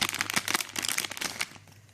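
Plastic bag packaging around an ELM327 OBD2 Bluetooth adapter is opened, giving a quick series of close, crisp crinkles and rustles that fade out near the end.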